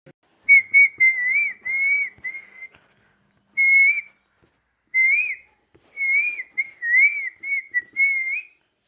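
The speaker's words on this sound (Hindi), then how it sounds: "सीटी में बजा रहा हूँ, कैसा बजाता हूँ? सही बजाता हूँ?" A person whistles a clear, tuneful melody in several phrases separated by short pauses, close and fairly loud with no talking.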